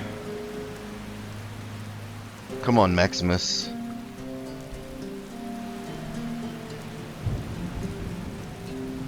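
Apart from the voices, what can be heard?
heavy rain and thunder in video game Skyrim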